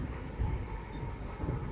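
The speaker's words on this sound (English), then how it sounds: "The sound of the train outside providing a gentle rhythm" A train runs through a snowy Scandinavian forest in winter, heard from inside a compartment as a steady, low, rumbling roar with faint rhythmic thumps of the wheels.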